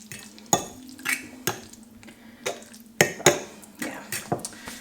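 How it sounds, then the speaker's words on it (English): A utensil stirs and scrapes through fresh spaghetti on a plate to work in cheese, giving a series of close, sharp clinks and soft wet rustles at an irregular rhythm, with no talking. "I'm just trying to mix in the cheese a little bit"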